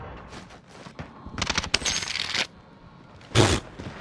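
Automatic gunfire bursts in Call of Duty: Modern Warfare, a few rapid volleys at close range with sharp cracks, the loudest burst near the end, no voices over it.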